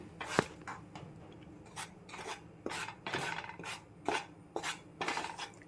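Gram flour and wheat flour roasting in a pan while being stirred steadily: repeated dry rasping scrapes of a utensil against the pan, close and fairly even in rhythm, roughly one stroke every half second, with no one speaking.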